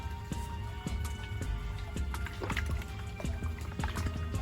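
Water is poured into a container holding a freshly caught fish during ice fishing, a faint, close splashing and trickling with small irregular taps, without talk.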